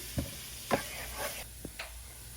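A spoon stirs Parle-G biscuit barfi mixture in a pan over medium heat, giving a few quiet scraping knocks spaced irregularly over a faint background.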